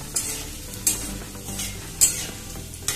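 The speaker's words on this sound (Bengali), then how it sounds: "মশলাটা একটু ভাজা ভাজা হোক।" Whole spices, bay leaf, cumin seeds and garam masala, frying in hot oil, with a steady sizzle and a few sharp stirring scrapes in the pan, close and moderately loud, no talking.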